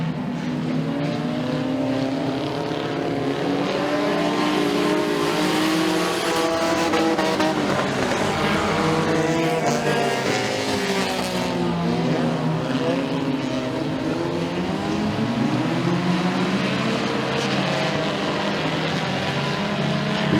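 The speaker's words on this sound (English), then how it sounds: "Challengers Heat 1 is underway." Race cars in a Challengers heat at Stateline Speedway, several engines roaring close together and rising and falling in pitch as they accelerate and pass, loud and continuous throughout.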